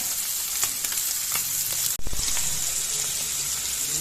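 Bangude mackerel coated in masala fries in a pan with a steady, close hiss that runs throughout, briefly cut near the middle before the sizzle resumes.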